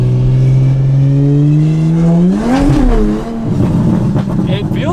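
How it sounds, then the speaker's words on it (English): Engine of an automatic Toyota Supra revving during a clutch kick: a steady idle climbs into a loud, rising rev, then drops into rough, rumbling engine noise, with people talking over it. "Alright, you ready for our first clutch kick?"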